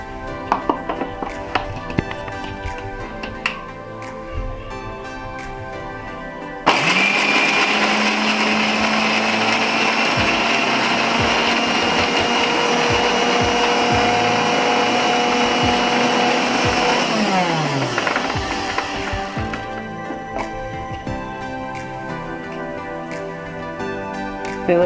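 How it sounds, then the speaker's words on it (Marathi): A mixer grinder grinds green chillies, garlic, ginger and coriander. After some quiet kitchen clatter, its motor roars loudly for about thirteen seconds, then winds down and stops. "हे वाटून घेत आहे मिक्सरमध्ये।"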